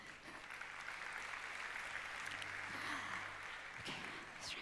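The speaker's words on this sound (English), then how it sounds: "A round of applause, please." Applause from a conference audience on blockchain, a soft, steady patter of many hands clapping at a distance, with a low hum underneath.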